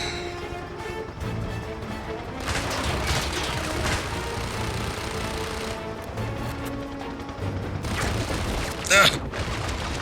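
Steady game gunfire from James Bond 007: Blood Stone crackles and booms throughout, dense volleys with one sharper spike near the end, mixed under someone talking and background game sound.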